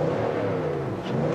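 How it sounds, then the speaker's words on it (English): A 2017 Nissan Titan's 5.6-liter VK56DE V8 revs in a steady, deep engine drone with harmonic tones that hold through the clip, close and fairly loud, with no talk. "I love the nice, deep, baritone V8 noises it produces."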